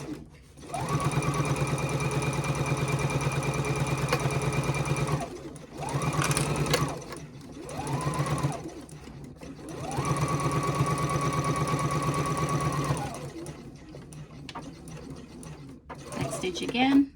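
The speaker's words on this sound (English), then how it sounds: "So we're just going to go ahead and sew both of those pieces together, back stitch, and then sew straight down this side here." Sewing machine stitching two fabric bag pieces together, running in steady humming bursts with short pauses for back stitching, a voice talking over the machine.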